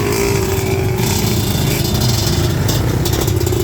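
Trail motorcycles idle together outdoors near Taal Volcano in the Philippines, a steady, loud, continuous engine rumble with no breaks.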